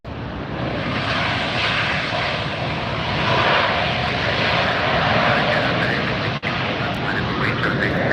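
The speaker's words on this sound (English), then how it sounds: "That's Hawaiian Airlines taxiing now, making the turn." Hawaiian Airlines airliner taxiing and turning at Los Angeles airport, its engines giving a steady, loud broadband roar that holds for the whole stretch with one brief dip near the end.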